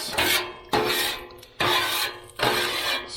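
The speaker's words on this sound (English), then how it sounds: "So at this point, I just like to get all the big chunks" A metal scraper drags leftover food chunks from steak and eggs across a 22-inch Blackstone griddle in four loud, rasping strokes, each followed by a short pause.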